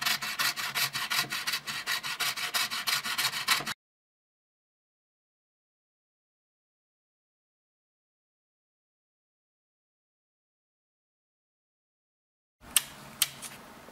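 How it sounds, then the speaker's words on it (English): Plastic part of a Commodore 1541 disk drive knob being cut by hand, a steady rasping, rubbing scrape for a few seconds, then a long silence before a few sharp clicks and brief scraping near the end. "I need to now cut a bit this plastic part, because like this it doesn't look very good"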